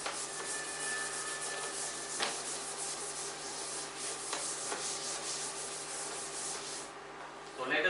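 Writing being rubbed off a board during a geometry lesson on the mid-point theorem, heard as a steady dry scrubbing and swishing that continues for several seconds at moderate level, with no talk over it.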